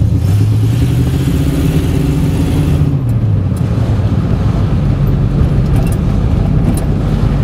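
A vintage Cadillac engine runs loud and close, a steady mid-pitched rumble whose tone sags and shifts partway through as the throttle eases, with no talking over it.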